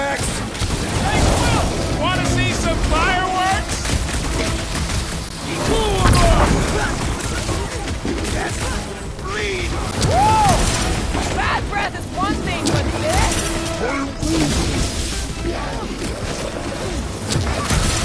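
Explosions from fireworks in the Guardians of the Galaxy video game: loud, dense booms and crackles that keep going steadily, mixed with game effects, music and character voices.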